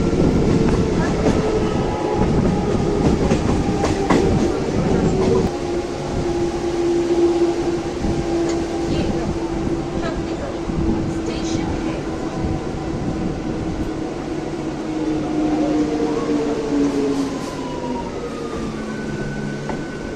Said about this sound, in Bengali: আমাদের ট্রেন ঢুকছে শক্তিগড় স্টেশন